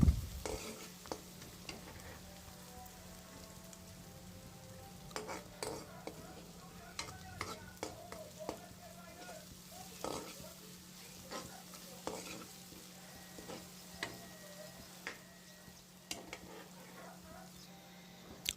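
Onions and ginger fry in a pan with a soft, constant sizzle, punctuated by repeated sharp clicks and scrapes of a utensil stirring against the pan.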